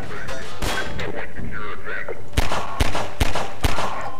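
Gunshots in Half-Life 2, a few scattered shots under game noise and talk at first, then four loud, evenly spaced sharp shots close together near the end.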